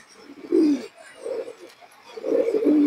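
Pigeons coo close by in three rounded, throaty phrases, each a low rolling murmur, the last one loudest and longest, with soft background noise between.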